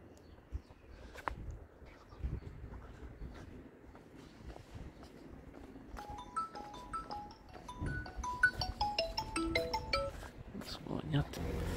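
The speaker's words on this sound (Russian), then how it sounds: "Звонят." Phone ringtone playing a short repeating melody of bright electronic tones, entering partway through over quiet room noise in a six-room apartment in Alanya, Turkey, with faint movement around it.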